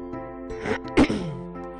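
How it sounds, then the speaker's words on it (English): A person clears their throat once, a short, loud, close burst, with quieter breathy rasps just before it and a faint tonal hum beneath throughout. "Oh, excuse me, trying to clear my throat."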